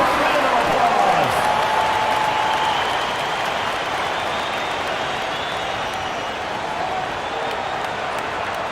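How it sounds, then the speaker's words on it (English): A virtual arena crowd in an NBA basketball video game on PS5 applauds and cheers in a steady roar that eases slightly after a few seconds, with faint sneaker squeaks and a commentator's voice over it. "All right, fans. Give yourself a round of applause."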